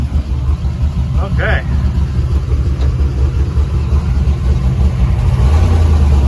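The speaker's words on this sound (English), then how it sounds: "We got a car coming." Car approaching along a road near the top of a wooded hill, a low steady engine rumble building gradually under a man's brief speech and outdoor noise.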